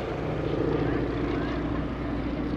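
A 5,500-pound airplane maneuvering through an overcast sky at the 2017 NAS Oceana Airshow, its engine a continuous loud droning roar that holds steady throughout.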